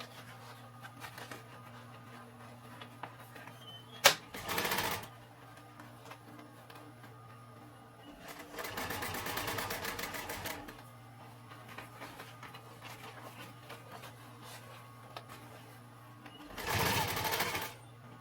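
A sewing machine stitches a simple fabric backpack in three loud mechanical bursts separated by pauses, with a steady low electrical hum running beneath them.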